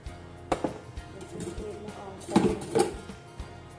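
A knife chops small fish through the bones on a cutting board in a few sharp knocks, a couple of heavier thuds standing out, with talking throughout.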